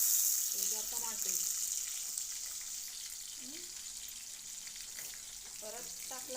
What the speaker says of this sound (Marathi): आता टमाटे टाकून घेते बरं का मी.